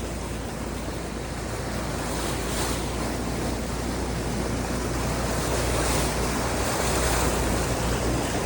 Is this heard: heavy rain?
yes